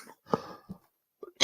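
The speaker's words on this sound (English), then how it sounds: "I'm coughing." A person coughs a couple of times in short, close bursts separated by gaps, with a louder, harsher burst at the very end; no talking.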